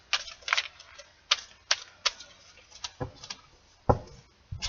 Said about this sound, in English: there's that deck shuffled